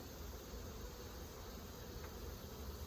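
Honey bees buzz in a steady, dense drone around an open hive during a swarm inspection, a continuous close hum with no talk.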